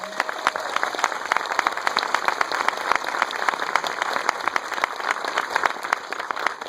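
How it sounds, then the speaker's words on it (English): An audience at a film festival Q&A for Tomm Moore and Song of the Sea applauds, dense close clapping with many individual sharp claps, steady throughout. "Please give Tom a round of applause."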